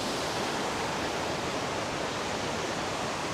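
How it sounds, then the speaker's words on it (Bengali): A waterfall fed by a fierce stream rushes as a dense, steady roar of falling water, constant and loud with no pauses or voices over it. "এই যে আমার পিছনে সেই ঝর্ণাটা দেখতে পাচ্ছেন, আর এই যে ঝর্ণাটা আসছে যেখান থেকে, মানে ভয়ঙ্কর একটা স্রোত চলতেছে ওই জায়গায়"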